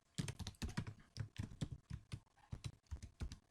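Rapid typing on a computer keyboard, a quick uneven patter of close keystrokes with short pauses between bursts, with no voices.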